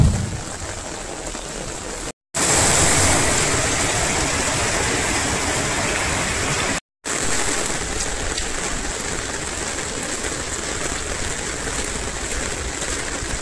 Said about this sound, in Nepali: लेदो बगेर आउँदैछ।